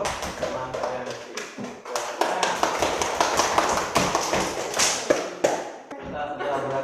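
A classroom claps for a student: a dense patter of many hands clapping at once, loud and continuous for several seconds, with voices mixed in.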